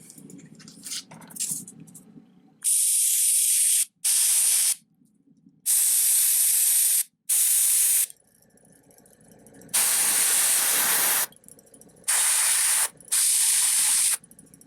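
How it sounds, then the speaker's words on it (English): An aerosol spray can coats a Storm Talon miniature model in repeated hissing bursts, about six, each lasting one to two seconds, separated by quiet gaps with faint handling noise. "Again, I'm just really spraying just that immediate area"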